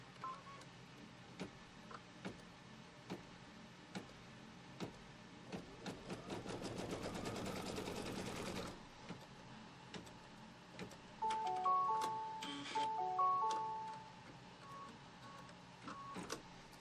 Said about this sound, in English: I'm going to put the foot down and now it's going to stitch a line from here to here